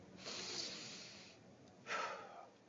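Two deep breaths, a long exhale followed by a shorter, sharper one after a pause, close and clearly audible with no talking.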